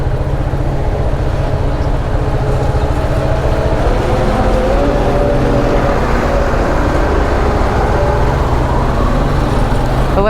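A car drives slowly around the old outer walls of the Ibn Tulun mosque in Egypt, a loud, steady engine and road rumble from inside the cabin with no talking.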